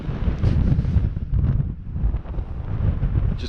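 Wind gusting over a stillwater lake during fly fishing in the UK, buffeting the microphone as a loud rough roar that rises and dips, with faint water lapping beneath.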